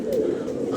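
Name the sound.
pigeons landing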